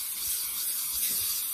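Cooking spray hisses onto a foil-lined cookie sheet in a kitchen, a continuous close airy spray lasting the whole moment with no talk over it.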